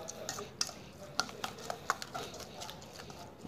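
Roasted rice-bran fishing bait is worked by hand with plenty of water, giving soft, irregular wet squelches and scrapes against a container, fairly quiet and close.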